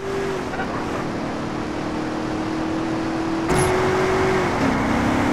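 A car engine in Grand Theft Auto: San Andreas drones at a steady pitch, then surges louder with a sudden nitro boost burst of acceleration and a rising whine.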